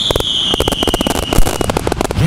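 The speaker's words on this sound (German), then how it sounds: "Dieses Feuerwerk knallt. Zur Gewöhnung an den Knall deshalb ein erster kurzer Soundcheck" Firework bangs from a soundcheck shot before a music fireworks show at a sports festival, loud sharp bursts and crackles in quick succession, with a high whistling tone running underneath.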